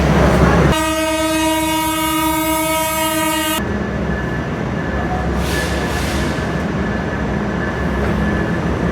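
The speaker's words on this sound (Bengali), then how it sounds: "এই লেট ট্রেনে করে সামনের দিকে আগাচ্ছি" The Benapole Express passenger train runs at night. A loud, sustained horn blast lasts about three seconds, then gives way to a steady, close rolling rumble and rail clatter, with no voices.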